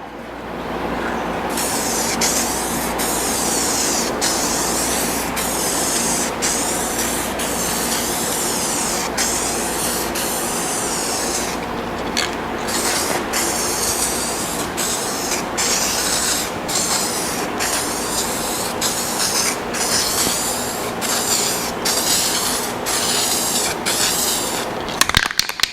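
Aerosol spray paint can hissing steadily as coats go onto a salvaged Scion tC, a continuous loud spray broken by brief pauses between passes, with no talking.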